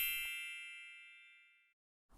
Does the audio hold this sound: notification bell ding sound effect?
yes